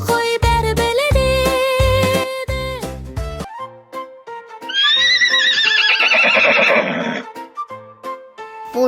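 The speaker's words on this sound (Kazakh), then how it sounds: "Дұрыс, жылқы." A cartoon horse neighs loudly in a long, wavering whinny, following a bright musical jingle, with quieter music continuing beneath it.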